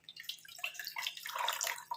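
Water splashes and sloshes faintly as something is rinsed and washed by hand, with soft drips and gurgles.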